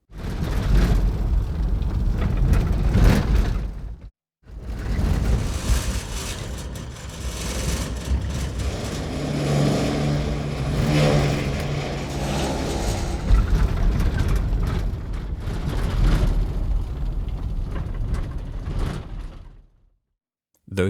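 A hover vehicle engine in an Unreal Engine 4 and Wwise game gives off a constant, dense, loud buzz built from overlapping one-shots. It swells and shifts slightly in tone, briefly drops out near the start, and stops at the end.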